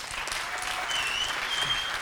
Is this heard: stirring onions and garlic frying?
no